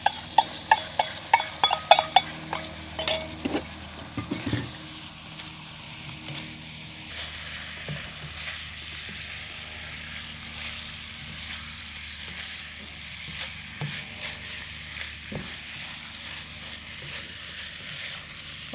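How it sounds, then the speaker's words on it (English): Pork and sauce hit a hot wok with a burst of sharp sizzling and clattering spatula strokes, then settle into a steady, softer frying hiss with occasional stirring scrapes. "the wok kind of hot right now. I'm going to put all the pork in it and put all the sauce in it"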